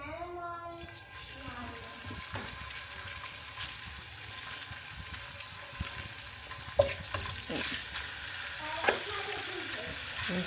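Chicken pieces frying in a hot pan, a steady dense sizzle running throughout with occasional louder pops and stirring clatter, close and fairly loud, with a voice briefly heard at the start.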